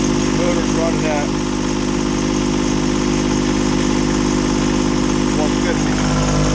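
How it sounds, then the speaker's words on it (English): A boat's motor runs steadily on the Intracoastal Waterway south of Norfolk, a constant mid-pitched drone with low vibration under faint background chatter and a few brief tonal chirps. "So it's 70 degrees, so that's good. Motor's running at"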